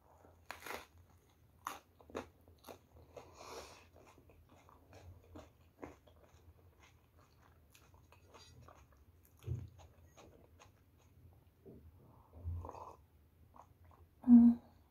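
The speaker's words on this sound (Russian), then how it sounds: "Божественный хруст" Crunchy pizza crust is bitten and chewed close to the mic, with sharp crackling bites and softer chewing crunches spread unevenly through quiet gaps, plus a few faint mouth noises.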